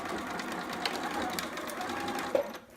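A home sewing machine back stitching along a seam about half an inch in, a steady close whirring that runs continuously and cuts off near the end.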